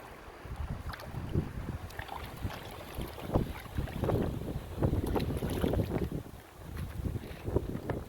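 Gusty wind blowing outdoors across a container garden, buffeting the microphone in uneven rumbling bursts with faint rustling, loud and close, with no talking.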